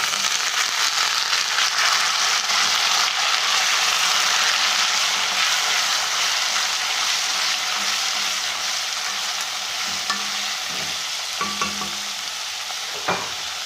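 Pumpkin pieces for bhaji fry in a hot pan and get stirred, a steady loud sizzle with scraping stirs and a few clinks near the end, no voices.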